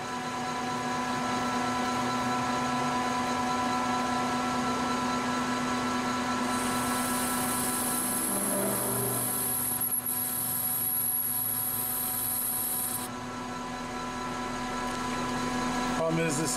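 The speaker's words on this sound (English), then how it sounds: "I'm going to round over this far side here. I got a 1/4 inch round over bit." A router fitted with a 1/4 inch round-over bit shapes the edge of a wooden lure for large predatory fish, a loud steady high-pitched whine running throughout with a shrill tone rising midway and chips catching.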